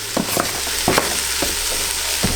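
Green peppers sizzle in a pot for spaghetti sauce, a steady close frying hiss with occasional soft spoon stirs and scrapes against the pot.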